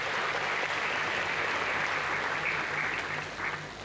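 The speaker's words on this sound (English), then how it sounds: "let's clap for ourselves" Audience applause fills the hall at a University of Benin inaugural lecture: a steady, dense wash of clapping that holds evenly throughout and eases slightly at the end.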